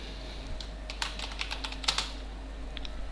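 Someone types an eBay product title on a computer keyboard: a short run of close, light key clicks in uneven bursts over a low steady hum.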